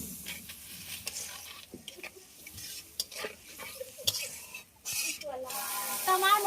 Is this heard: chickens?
no